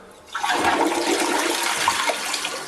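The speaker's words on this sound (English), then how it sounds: "Let's see the flush with one. So I can press it, it is gonna flush." A water-efficient push-button toilet flushes on a short press; after a brief quiet moment, a loud, close rush of water surges and keeps running steadily to the end.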